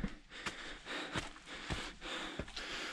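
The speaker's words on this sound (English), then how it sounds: "Excuse my heavy breathing, but look at the view." Heavy breathing from a hiker climbing trail stairs on Stonewall Peak, a run of rhythmic sharp breaths roughly every half second over outdoor background noise, close to the mic, with no talking.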